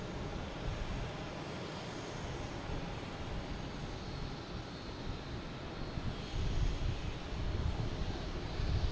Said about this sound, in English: Next to come in is that JetBlue that was flying over our heads earlier, an A321 coming in from San Francisco.